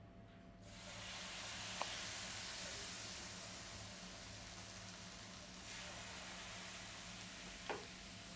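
Rava dosa batter with onion hitting a hot pan, a continuous soft hiss of sizzling that starts abruptly and holds steady, with a couple of faint clicks, close and quiet.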